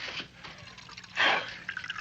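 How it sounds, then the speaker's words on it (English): Ale is poured into a mug in a colonial-era tavern: a brief, soft splashing gush of liquid rises and fades within a quiet room, with faint drips after. "Pour me a mug of ale, will you?"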